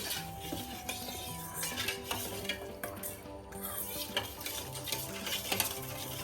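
Appam batter of yeast, salt and sugar stirred briskly in a bowl, with steady scraping and light clinking of a spoon against the sides, close and continuous.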